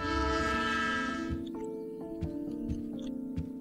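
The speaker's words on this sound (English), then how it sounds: "I think I avoid getting hit by the train" A video game train rumbles past with a long, loud sustained horn blast at the start, then rhythmic wheel clacks and thumps as the cars roll by, with no talking.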